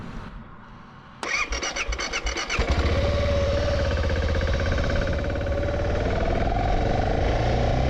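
A motorcycle engine starts near a lake, first crank clatter and then a sputtering catch, before settling into a loud, steady running drone as the ride begins.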